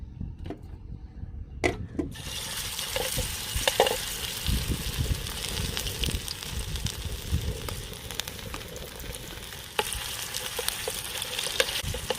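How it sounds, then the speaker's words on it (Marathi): Prawn fritters (kolambi vade) frying in oil over a village wood-fired stove, a dense, steady sizzle that sets in after a few initial clatters and keeps going with occasional spoon or pan knocks. "आता आपण त्याला तळून घेऊया."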